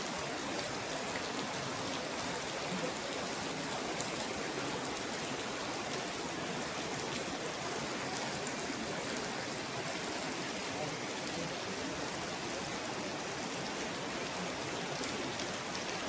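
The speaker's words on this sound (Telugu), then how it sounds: "కొండపై నుంచి మనకి వర్షపు జల్లులాగా ఎలా పడుతుంది చూడండి వాటర్" Water of the Penchalakona waterfall spills from a hillside like a rain shower, producing a steady, soft hiss of falling spray that stays even and unbroken throughout, fairly faint and without distinct splashes.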